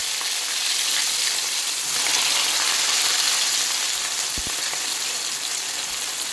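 Steady loud sizzling of onions frying in hot oil after mustard seeds, a continuous crackling hiss throughout with no talking.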